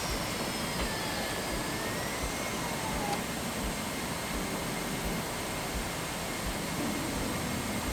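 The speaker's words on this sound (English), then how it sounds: "now I'm almost at the end of the runway, and I'm still, my throttle is still increasing" Steady, loud jet-engine roar from an aircraft at full throttle during a runway takeoff roll in a PS5 flight simulator game, holding an even, unbroken level throughout with no voices.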